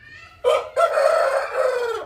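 A rooster crows loudly and close by, a long drawn-out call starting with a short burst, then a sustained wavering cry, with no talking.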